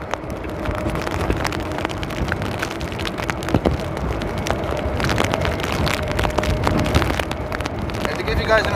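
Heavy storm rain pours steadily at an airport, a dense continuous wash with scattered sharp drips and patters close by, while a distant engine-like hum sits underneath throughout.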